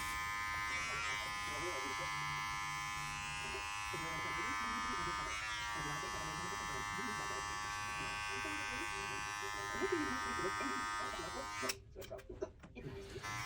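Electric hair clippers buzz steadily throughout a taper fade haircut, a constant close drone with someone talking over it, then clattering handling noise near the end.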